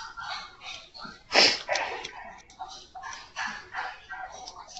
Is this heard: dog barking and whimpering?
yes